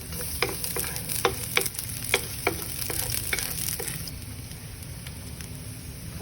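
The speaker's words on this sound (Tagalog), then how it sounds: "we're gonna saute the garlic first." Garlic sautés in a pan for adobong shrimp, a steady close sizzle broken by a series of clicking stirs and scrapes in the first half before settling into an even fry.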